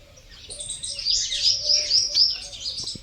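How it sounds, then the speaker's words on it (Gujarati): Koels and mynas squabble over a piece of coconut, their busy, overlapping chirps and calls carrying close and steady for about three seconds with no talk. "કોયલીઓ અને કાબરે લડે ટોપરાનો અડધો કટકો અંદર પડ્યો"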